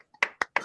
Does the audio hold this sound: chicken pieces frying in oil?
no